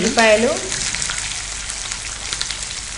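Onions, curry leaves and garlic hit hot oil in a pan with a loud burst, and a short voice sounds at the start, then a steady crackling sizzle continues close by, settling slightly softer.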